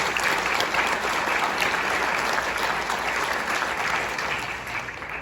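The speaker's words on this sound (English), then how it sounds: "Please give them a round of applause." A school audience at a Carolina Forest High School ceremony gives loud, sustained applause, a dense wash of clapping that holds steady and fades slightly at the end.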